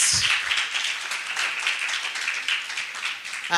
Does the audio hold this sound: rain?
no